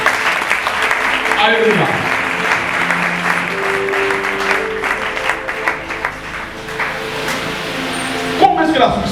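A church congregation claps together to acclaim the Lord, loud sustained applause filling the room while a preacher's voice and shouts of praise rise over it.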